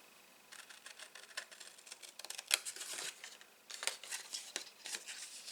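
Scissors snip through cardstock while a card is trimmed close to a stamped outline, giving a series of sharp, crisp cuts and crinkling paper rustles at irregular intervals, close and quiet with no voices.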